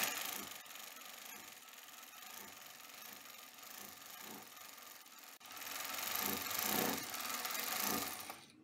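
A sewing machine runs a continuous seam along the side of an opened fabric strip for a baby top, a quiet steady whirring hum that briefly pauses, then resumes somewhat louder.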